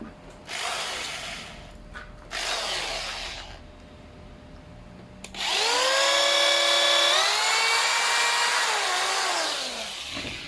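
A handheld electric drill whirs loudly as it bores into a thin plastic Canon MP287 printer ink cartridge, rising in pitch and holding steady for several seconds after two shorter bursts and a quiet pause.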